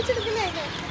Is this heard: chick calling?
yes